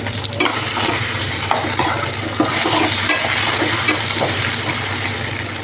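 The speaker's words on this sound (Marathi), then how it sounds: "थोडंसं तेल टाकते तेलावर आपल्याला हा बटाटा जरा तळून घ्यायचा आहे" Potato pieces frying in a little oil in a pan for a spiced pea and potato curry, giving a steady, dense sizzle close up with occasional faint scrapes of stirring.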